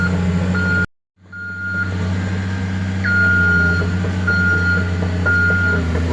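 A giant bulldozer works its way through a narrow path in the woods, its steady engine droning under a repeating reversing beep that sounds in regular pulses, with a brief dropout early on.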